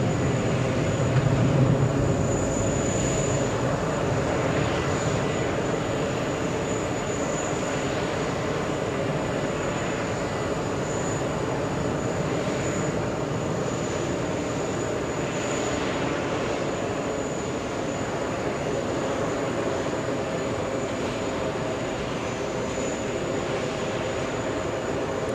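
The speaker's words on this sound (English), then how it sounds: "747-8 flying in from Beijing, China" A Boeing 747-8 arriving at JFK from Beijing, a long steady jet roar heard from a distance, continuous and fairly loud throughout with no talk.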